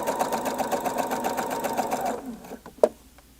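Sewing machine running steadily as it stitches 100% cotton fabric for a top or cardigan, a fast even whir for about two seconds before slowing and stopping, followed by a few soft clicks.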